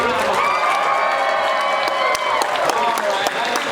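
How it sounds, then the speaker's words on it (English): Audience at a HORD 1lb robot combat event gives a loud, sustained round of applause with scattered cheers, close and continuous throughout. "Let's give a round of applause."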